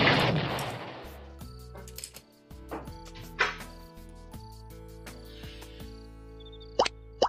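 A bomb effect bursts in a video card game, a loud crackling explosion at the start followed by scattered plops, chimes and blips from the game.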